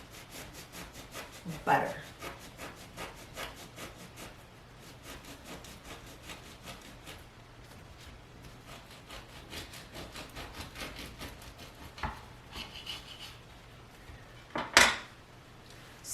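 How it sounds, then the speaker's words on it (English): A knife saws a slice from the middle of a soft homemade no-knead sandwich loaf: quiet, steady scraping strokes with a couple of sharper clinks, under brief low talk. "Now I'm going to cut a slice from the middle"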